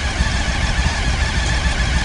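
A stock, unmodified police motorcycle engine idling nearby, a steady low, throbbing rumble with a faint regular pulse and no voices over it.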